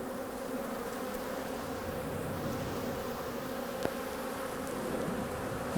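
Honeybees from an opened hive colony being inspected, with swarm cells and a laying queen present, buzz in a dense, steady drone, close and continuous, with a brief knock of handling midway.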